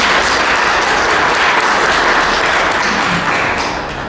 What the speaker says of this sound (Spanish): Por favor, recibámosla con aplauso y vamos a escucharla.